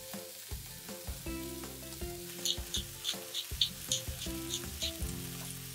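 Beef and onion fry in a pan over high heat for a Georgian-style chanakhi beef stew, giving a steady close sizzle with scraping stir noises and soft clatter, alone without talk.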